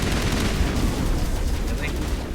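Gunfire in Mass Effect Legendary Edition on Xbox: a dense, continuous barrage of shots with loud, rumbling low-end bursts sustained throughout, with no pause.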